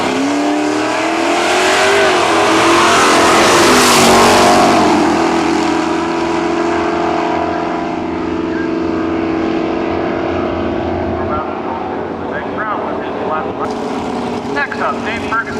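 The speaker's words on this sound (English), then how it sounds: "Paul Horvath now from Guelph and his 7th Maverick." A 7th-series Ford Maverick drag car at a nostalgia drag racing event in Cayuga, Ontario, roars loudly as it revs and launches, the engine note sweeping upward and then fading into the distance, with crowd and track noise behind.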